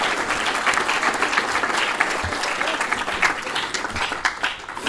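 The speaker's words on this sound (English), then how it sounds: "A round of applause for everybody being inducted." Audience applause at a Gold & Silver Circle induction ceremony, a sustained burst of dense clapping from a crowd lasting throughout, loud and even.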